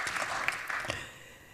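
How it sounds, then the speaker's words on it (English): Brief, faint applause from the audience at a panel session on governance of major passenger transport hubs, a short scattered patter fading out within a second or two. "you can applaud"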